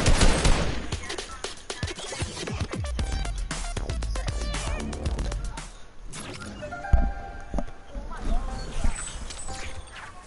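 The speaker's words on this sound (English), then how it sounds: "This dude's shooting you." Dense volleys of video-game gunfire crackle in rapid, uneven bursts with sharp individual shots, loud and close, while players talk over the action.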